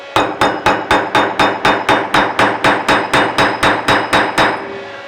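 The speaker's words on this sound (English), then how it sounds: "And now I should be able to just drive that pin in" A steel hammer drives a pin into a FAL Israel gas block, striking about twenty sharp metallic blows in a steady, even rhythm, loud and close, with no voices.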